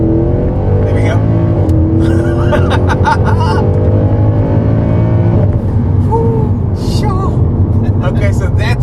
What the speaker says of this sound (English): that's what launch control in a C63 AMG Black Edition feels like